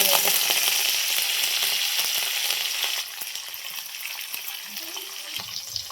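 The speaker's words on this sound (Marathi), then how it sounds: "कढीपत्ता, लसूण चांगलं परतून देते." Curry leaves, garlic and coriander sizzling in hot oil, a bright continuous crackle that eases off partway through, with a few light stirring knocks.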